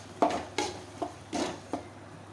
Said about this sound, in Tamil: இப்போ அரைச்சி வச்சதை கூட நல்லா வதக்கிக்கலாம்.